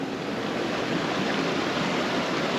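Steady broadband rush of river water flowing near a small waterfall in Baja, a continuous dense wash with no pauses and no voices.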